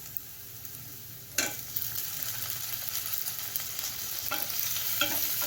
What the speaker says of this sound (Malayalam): ഇനി ഇത് നല്ലപോലെ വരട്ടിയെടുക്കാം.